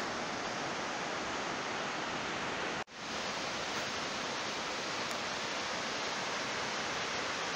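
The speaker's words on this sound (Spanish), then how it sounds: "El río por ahí abajo se ve." Steady broadband rush of a river flowing through a forested valley below, heard from a height near the Georgia–Azerbaijan border, continuous and fairly loud with one brief dropout.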